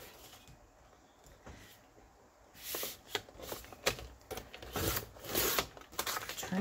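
Paper being trimmed with a cutter at a cluttered craft desk while making ring binder farm journals; scattered scraping and sliding strokes, close and moderately loud, growing busier toward the end.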